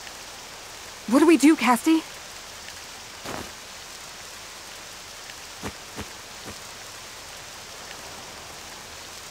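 Steady, soft rainfall hisses through a scene in the Octopath Traveler II role-playing game, with a short spoken line near the start and a few faint thuds scattered across the background.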